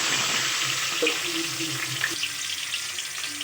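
About twenty small onions sizzle in oil in a pan after mustard seeds have crackled, the first step of a village-style fish curry. A constant, bright frying hiss runs throughout, with a few faint clinks and stirs and no talking.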